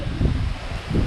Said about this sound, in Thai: ลมมาแล้วครับพี่น้อง